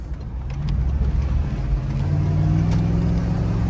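A 1994 Cadillac Deville engine pulls steadily through a corner, a low, continuous drone with a faint rising rev, heard from inside the car without talk.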